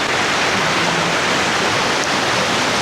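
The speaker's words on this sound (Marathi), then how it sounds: "भाऊ पाणी तर खूप जास्त चालू आहे" Heavy water rushing loudly at a waterfall on a trip in coastal Ratnagiri, Maharashtra, a dense continuous roar filling the whole stretch with no pauses.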